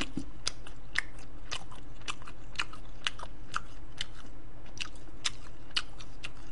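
Crisp, crunchy chewing on chili peppers from a rice bowl, heard up close as a steady series of sharp bites and crunches with no talking.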